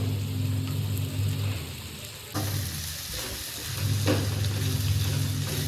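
Poha fries in a pan while chopped tomatoes are added and stirred in: a close, steady sizzle with scraping stir strokes and a brief clatter partway through, and no talking.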